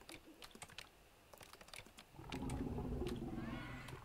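Rapid irregular clicks of a computer keyboard and mouse tap away close by, scattered bursts of keystrokes, joined halfway through by a louder background rumble of game sound.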